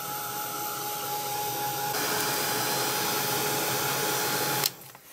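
Hair dryer or heat tool blowing steadily close up, drying paint and matte medium on an art journal page, loud continuous whir that shifts slightly partway through and cuts off near the end.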